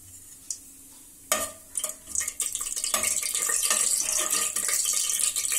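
Whole cinnamon, cardamom, cloves and two bay leaves dropped into hot oil for a chickpea kurma give a sudden burst of crackling sizzle, then steady close frying with stirring scrapes and clinks against the pan.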